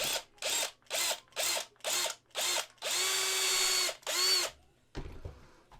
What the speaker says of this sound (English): So now I gotta see if I can drill it out.